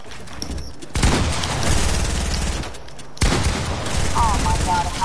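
Two bursts of rapid gunfire from the video game Fortnite, each a loud, dense volley lasting a second or two, separated by a brief lull, with a player's voice talking underneath.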